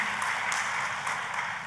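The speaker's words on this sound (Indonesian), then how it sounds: "Tepuk tangannya paling meriah buat Tuhan kita." A church congregation applauding, a dense, steady wash of many hands clapping at once, filling the room for a brief moment.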